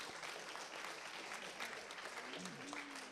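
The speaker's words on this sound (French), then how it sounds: "Mathieu et Hakim, vous pouvez les applaudir également" A university audience at an international exchange presentation claps steadily, a soft, continuous patter with a voice briefly audible underneath near the end.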